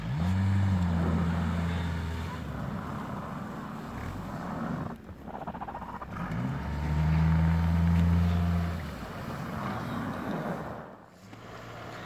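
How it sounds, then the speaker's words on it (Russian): An Isuzu Bighorn off-road vehicle climbs a hill, its engine droning and surging in two strong revving pushes with a lull between, loud and close, with wind noise over the microphone. "Исудзу Бихорн поехал на первую горочку."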